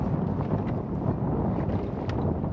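Strong wind buffets the microphone in a constant low roar on a lake, gusty and rumbling throughout with no voices.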